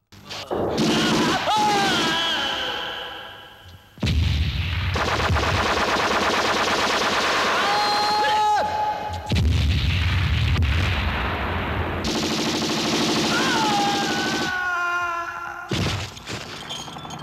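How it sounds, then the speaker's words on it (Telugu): Loud gunfire fills a Telugu movie scene, with sustained rapid bursts like machine-gun fire and sharp ringing reports, briefly cut off and then resuming. "take your gun and shoot him"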